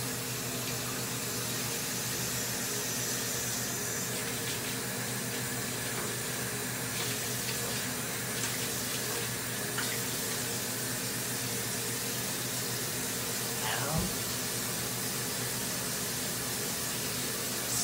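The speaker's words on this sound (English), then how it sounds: "you're going to want to wash your hands to make sure your hands are clean" Steady running water from a tap pours continuously over washing hands, a soft hiss with faint splashing and a few brief clatters.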